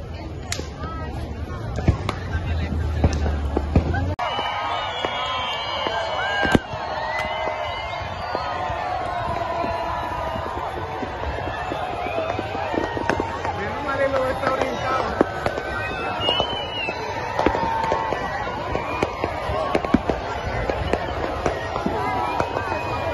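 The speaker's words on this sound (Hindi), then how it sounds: "देखो जी पटाखे शुरू हो गए।" Fireworks crack and pop during a beach bonfire night in Barcelona. The bangs are scattered and irregular over a busy outdoor crowd, and someone talks throughout.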